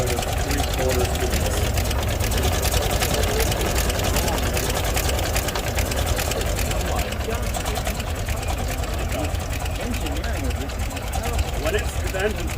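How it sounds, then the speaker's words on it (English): A brass-era antique car engine idles cold at a fairly high speed, a steady rapid mechanical chatter with constant loudness, close by, with a person talking over it. "This is a relatively high idle for it right now."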